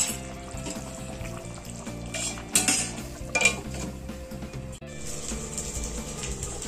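Chicken is stirred in a pan over a low gas flame, with metal utensil scrapes and a few sharp clanks against the pot over a quiet, steady background hum.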